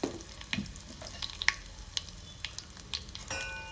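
Curry leaves and asafoetida powder hit hot oil for a gooseberry chutney tempering, hissing in a continuous quiet sizzle broken by frequent sharp crackles and pops, with no talking.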